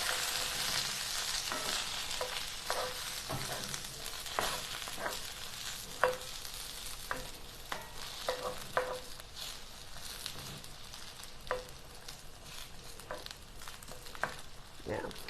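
Eggplant fries in a pan with a constant crackling sizzle, punctuated by many sharp taps and scrapes as it gets stirred around, close and moderately quiet.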